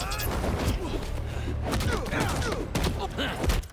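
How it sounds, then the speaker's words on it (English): Mines thrown by Kraven detonate during a boss fight in Marvel's Spider-Man 2, a dense run of explosive blasts and thuds that keeps going at high level for several seconds, with game effects layered over the booms. "So he just threw these mines out that he can detonate."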